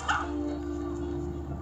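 A dog yips briefly during a tussle with a turtle over a ball, one short bark up front and then a low steady background hum.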